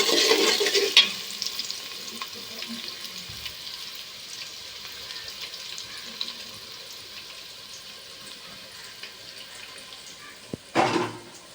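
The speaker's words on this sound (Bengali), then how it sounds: "পেঁয়াজ দিয়েছে পোলার জন্য পেঁয়াজটা হালকা একটু কালার করব" Onions for pulao fry in oil in a pan while being stirred. A soft, steady sizzle sits low and grows quieter after a busier opening, with a few clinks and a brief clatter near the end.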